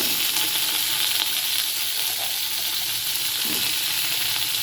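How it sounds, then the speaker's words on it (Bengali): Potatoes go into hot oil tempered with black cumin seeds for a light curry and fry with a loud, steady, close sizzle and no talking. "দিয়ে দেবো এই আলুগুলো।"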